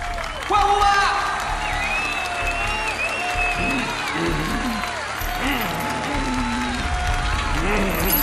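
Audience at an evening stage show applauds and cheers loudly in a sustained wash of claps and voices, with whistles and shouts rising over it, while a voice speaks over the crowd.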